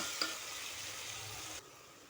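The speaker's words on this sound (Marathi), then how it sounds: "आता बघा हे परतलं आहे" Chicken pulao ingredients sautéing in a pan give a soft, steady sizzle with one light tap near the start, cutting off abruptly near the end; no one speaks.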